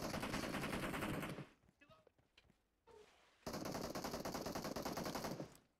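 Rapid automatic gunfire in PUBG Mobile comes in two long, loud bursts of tightly packed shots, split by a quieter gap holding a few scattered single shots and low game noise.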